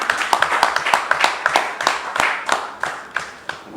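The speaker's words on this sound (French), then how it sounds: "que je vous demande d'applaudir." Audience claps to welcome a guest being introduced at an event, a thin, fairly close round from a small group with distinct, uneven slaps that gradually grow softer.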